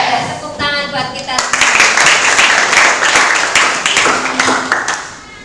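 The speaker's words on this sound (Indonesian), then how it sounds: "Tepuk tangan buat kita." Schoolchildren in a morning classroom session clap their hands in a brisk, rhythmic pattern after a brief spoken lead-in, the claps sharp and close, with voices mixed in.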